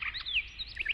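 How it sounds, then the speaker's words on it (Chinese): Bright, ringing skylark song in a cartoon forest scene, a quick run of high chirps and trills that rises and falls over about a second, fairly faint and heard alone. "比如清脆响亮的百灵鸟"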